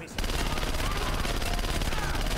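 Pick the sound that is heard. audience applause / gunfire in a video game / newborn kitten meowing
gunfire in a video game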